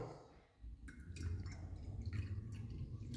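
Water is poured into a glass already half filled with radiator coolant additive, a steady soft trickling and gurgling that builds and continues through the pour, close and fairly quiet.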